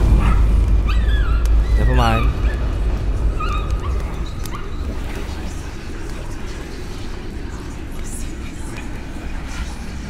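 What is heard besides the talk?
dog barking and whimpering in video game Layers of Fear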